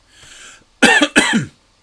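Two strong, rasping coughs close to the listener, preceded by a soft breathy exhale.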